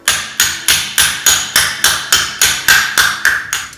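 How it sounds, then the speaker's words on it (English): A metal hammer smooths a metal piece being prepared for enameling. It gives about a dozen loud, evenly spaced ringing blows at a steady rhythm, close up, with no talking. "I would kind of alternate between a rawhide mallet and this hammer to smooth this out here."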